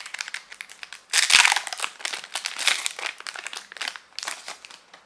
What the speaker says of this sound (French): une ouverture de booster de la révolte éthérique et on est parti. Voilà, on va l'ouvrir